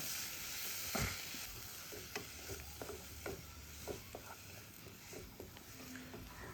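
Crushed ginger, garlic and green chilli fry in a pan for Thalassery biryani, with a soft steady sizzle and intermittent scraping stir strokes close by, no talking.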